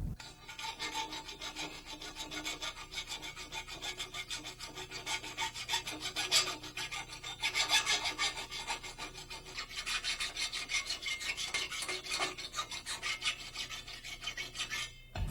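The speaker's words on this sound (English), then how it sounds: "File the triangle flanges flat before mounting the headers to the engine." Metal file rasping across triangular exhaust header flanges to flatten them, a steady continuous scraping of repeated strokes, close and fairly loud with no talk.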